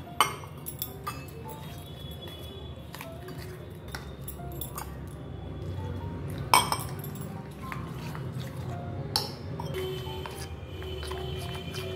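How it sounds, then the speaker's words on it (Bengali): A whisk taps and clinks against a bowl while mixing oats chilla batter made with roasted besan. The quick, irregular light strokes are close and fairly quiet. "এটাকে আমি ফেটিয়ে নিচ্ছি"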